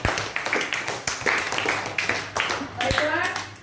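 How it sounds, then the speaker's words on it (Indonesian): A classroom of students clapping for a classmate, a quick scattered burst of hand claps with some voices mixed in, fading near the end. "tepuk tangan buat Dewi"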